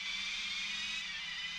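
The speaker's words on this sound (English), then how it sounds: "I have absolutely no idea why all the car engines on my disc copy sound like a screwdriver about to run out of battery" Glitched car engines in the PS1 racing game Toca 2, played from a disc copy, give off a steady hissing buzz over a low wavering drone, like a screwdriver with a dying battery, with no talking.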